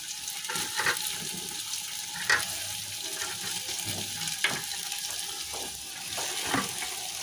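Boiled rice goes into meat frying in a pan, bringing a steady sizzle broken by several soft scraping stir strokes at irregular intervals, close and moderately loud.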